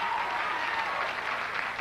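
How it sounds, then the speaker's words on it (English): Audience applause from a studio crowd at a 1987 television interview with a band, steady dense clapping filling the whole moment at an even, sustained level with no voices over it. "You get a round of applause."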